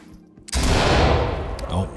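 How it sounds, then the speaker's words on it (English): Flashbang grenade going off in the video game Ready or Not, a sudden loud blast after a brief quiet moment, then a ringing, decaying roar that lingers for over a second. "Flashbang."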